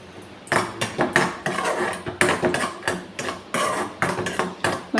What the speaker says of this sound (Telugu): దీంట్లో జీడిపప్పు, బాదం పప్పు ఫ్రై చేసుకుందామండి.